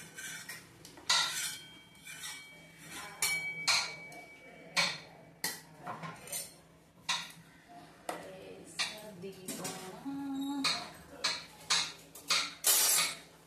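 A sharp kitchen knife chops carrots on a board in a home kitchen, giving a steady series of crisp taps with a few brief pauses, while people talk quietly in the background.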